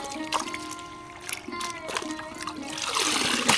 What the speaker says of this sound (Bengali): সুন্দর করে আমি শাকগুলো ধুইয়ে নিব।